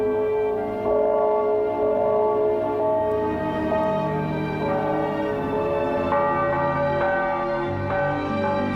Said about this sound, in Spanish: Toca las campanas con fuerza, hermana.